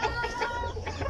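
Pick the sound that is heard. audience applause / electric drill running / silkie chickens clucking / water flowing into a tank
silkie chickens clucking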